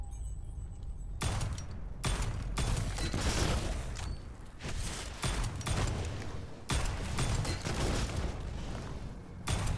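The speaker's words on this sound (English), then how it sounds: "Let's use this pistol a bit again to lodge the bullets." Pistol gunfire in the dark fantasy shooter game Witchfire comes in repeated loud, sharp bursts with brief gaps, mixed with combat clatter and impacts, with no voices.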